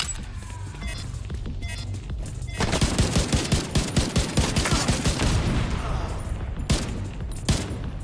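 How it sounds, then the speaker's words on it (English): Explosive ammunition detonating in the video game The Division 2, a burst of rapid crackling pops and dense gunfire-like cracks after a quieter lead-in, with a few sharp bangs trailing off. "That was an underwhelming boom for blowing up explosive ammunition."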